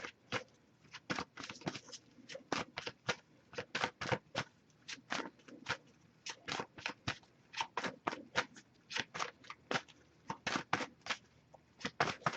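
Soft, crisp card sounds: rapid shuffling and flicking of a tarot oracle deck, many quick close-up taps and riffles in an uneven rhythm, no talking.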